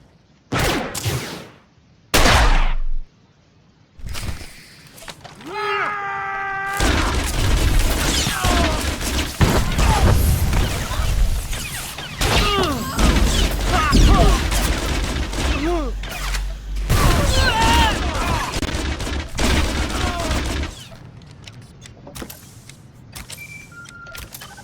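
Blaster gunfire erupts in a Star Wars video game battle on Nar Shaddaa, a dense, loud barrage of shots and impacts running for over a dozen seconds after a few isolated bursts, with voices shouting over it.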